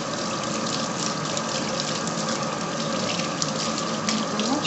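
Tap water runs steadily over fabric being rinsed out with a little hand soap to clear candle wax, a continuous close gushing hiss alone without pause.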